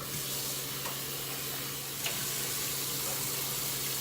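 Steady running water with light splashing and swishing, continuous and close, as cut potatoes are rinsed in a sink.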